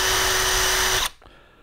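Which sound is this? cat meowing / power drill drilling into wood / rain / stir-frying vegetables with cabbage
power drill drilling into wood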